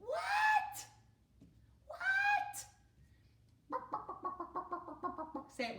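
A hen gives two drawn-out, falling squawks, then a quick run of repeated clucks, close and clear with no talk over it.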